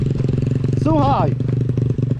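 A motorcycle engine runs steadily nearby with a throbbing, pulsing drone during a riding lesson, while a person's voice briefly rises over it partway through.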